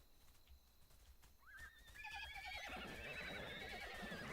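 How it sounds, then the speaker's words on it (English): Horses neigh in a video game, several high whinnies rising one after another over a faint patter of hooves, the calls growing louder and overlapping toward the end. "Start a big herd of horsies."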